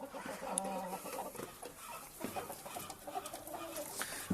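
Desi Golden Misri hens clucking on a poultry farm in Pakistan, several soft, irregular clucks and short calls at close to moderate distance, quiet and without talk.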